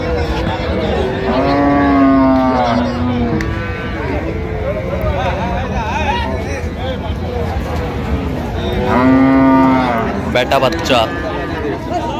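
Cows and calves at Raniganj cattle market in Dinajpur let out two long, loud, drawn-out moos several seconds apart, over a constant background of crowd chatter.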